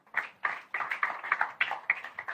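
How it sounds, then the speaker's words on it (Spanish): A church congregation claps in praise to the Lord, a quick run of close, irregular handclaps that soon fall into a steady rhythm, with no voices. "dale el aplauso al Señor"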